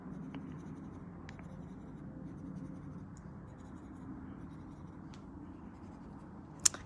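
A soft, dark pencil scribbles steadily across paper, a quiet continuous scratching with faint taps and one small knock near the end.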